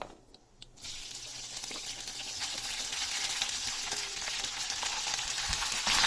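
Mixed vegetables, brinjal among them, tumble into a hot pan for a dry mixed veg dish, setting off a steady hiss of frying that builds and holds loud and close to the end, with no talk.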